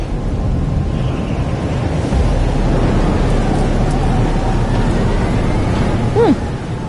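Storm noise in Life is Strange: Double Exposure, a loud, steady roar of wind and rain with low rumbling thunder beneath, continuous and broadband from start to end.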